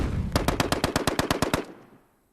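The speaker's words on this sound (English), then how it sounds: "The Browning automatic rifle, model M1918A2, essentially a light machine gun providing fire support in the squad." A Browning Automatic Rifle M1918A2 fires a rapid burst of about eleven evenly spaced loud shots, then stops abruptly and the sound quickly fades to silence.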